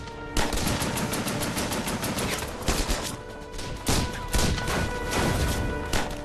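Sustained machine gun fire rattles through a WWII battle, with dense continuous bursts and several louder crashing shots, close and loud with no talk.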